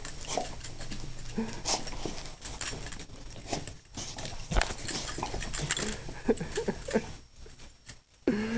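A small puppy whimpers and yips close by amid rustling and clattering handling noise from its cage, with brief thumps and movement throughout.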